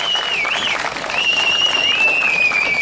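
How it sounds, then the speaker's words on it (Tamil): Crowd applause at a village honouring ceremony for elders, dense and steady, with a high electronic whine from a PA system running over the clapping throughout. "கைதட்டுங்க போ."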